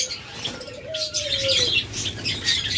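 A pair of spotted doves, caged birds offered for sale, give a drawn-out cooing call with bursts of wing flapping and light chirps nearby, all close and moderately loud with no talk.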